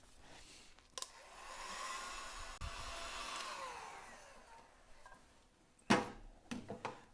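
A heat gun blows over heat shrink tubing on a Mazda MX-5 wiring loom fitted to an MK Indy RX-5 kit car, giving a steady airy roar that swells and fades, followed by a few sharp handling knocks.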